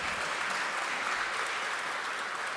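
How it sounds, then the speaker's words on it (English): A crowd claps in a dense, steady burst of applause, even and sustained throughout the short stretch. "Let's give a bigger round of applause, my friends"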